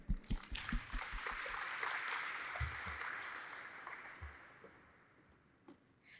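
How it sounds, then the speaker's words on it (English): Moderate audience applause at a Python conference lightning talk, swelling and then gradually tapering off, with a few scattered claps and thumps at the end. "So let's give a round of applause to Anjali."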